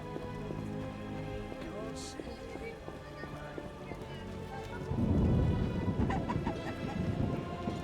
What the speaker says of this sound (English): Raining so hard I can't see anything.